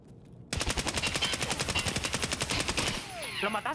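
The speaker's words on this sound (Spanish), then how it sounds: "Y me está disparando" Rapid automatic gunfire in Escape from Tarkov, a loud sustained burst of evenly spaced shots fired in quick rhythm and fading into a ringing tail, with a voice briefly heard near the end.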